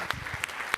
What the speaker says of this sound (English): Huge round of applause for Isaac.